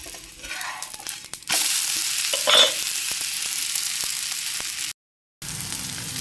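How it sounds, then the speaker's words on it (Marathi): Beetroot and carrot batter pancakes sizzle steadily on a hot griddle, a loud continuous frying hiss with a brief stirring scrape and a short gap of silence near the end, no voices. "आज टिफिनसाठी बनवलेलं आहे बीट आणि कॅरेटचा, बीट आणि गाजराचा मस्तपैकी तव्यावरचे हे धिरडे बनवलेले आहेत"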